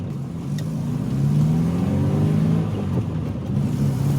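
Austin Maestro barn-find car engine pulling steadily while being shifted through the gears, a continuous mid-pitched drone rising and falling with each change, heard from inside the car.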